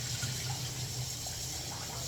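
Tap water runs steadily for washing in a kitchen, a continuous close rushing hiss with no breaks.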